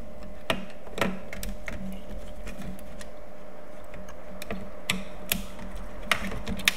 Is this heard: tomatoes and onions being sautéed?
no